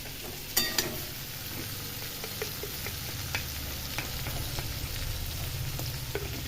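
Cumin seeds sizzle in hot oil for home-cooked matar paneer, a steady close frying crackle with a few sharp pops near the start.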